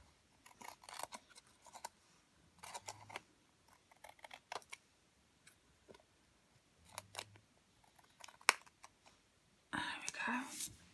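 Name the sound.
scissors cutting card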